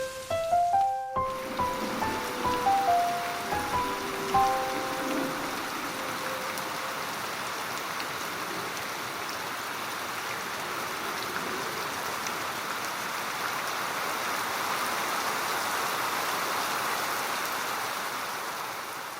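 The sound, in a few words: heavy rain falling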